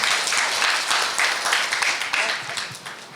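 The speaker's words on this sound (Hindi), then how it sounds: "अपने लिए एक बार ताली बजाइए" An audience at a summer camp in Lucknow claps together, a dense, steady patter of many hands for about three seconds, fairly close with a slight swell and fade.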